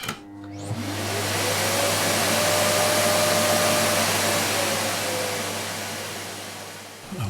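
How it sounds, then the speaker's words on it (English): A shop vacuum runs steadily with a loud, broadband whooshing roar and a constant low hum, spinning up at the start and winding down at the end, alone with no talking. "just turn your shop vac right down"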